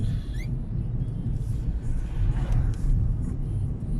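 A car drives along a road near Niemcza, a steady low engine rumble and tyre roar filling the cabin without pause, with a faint whir rising and falling and a few light clicks near the start.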